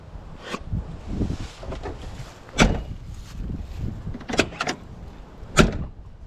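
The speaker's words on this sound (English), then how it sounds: "Really gotta love how these old school doors shut." An old Ford F250 OBS pickup's door thuds shut among clunks and handling noises, with a couple of sharp slams standing out over a rumbling background.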